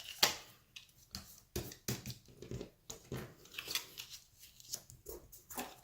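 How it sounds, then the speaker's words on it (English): Scored paper flaps of a Valentine's Day explosion box being folded inward by hand, soft intermittent crinkles, creases and taps, close and quiet with no talk. "So now I'm just gonna fold my flaps inwards."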